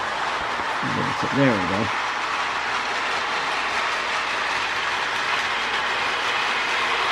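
A Lionel custom Erie Lackawanna FA model train rolls into a model station with a steady, close rumble and clatter that runs through the whole stretch. A person speaks briefly near the start.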